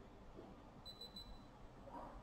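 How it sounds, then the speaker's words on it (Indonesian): An LG Puricare Gen 2 electronic face mask gives three quick, high, thin beeps in even succession over a quiet background. "Terdengar beep 3 kali, itu suara speaker on-nya sudah mati."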